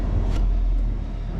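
A garbage truck passes with a steady, heavy low rumble that holds close and even for the whole moment, with no voices over it.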